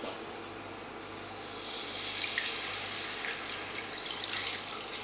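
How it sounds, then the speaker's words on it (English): Red wine, most of a bottle, pours into a pan for slow cooker coq au vin, a steady close liquid splash and gurgle that swells slightly and runs continuously without talk. "into that pan you are going to pour your red wine"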